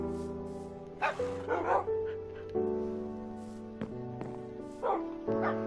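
Several tamed wolf-dogs in the video game Minecraft let out repeated short yips and barks in scattered bursts, layered over a sustained, droning game music background.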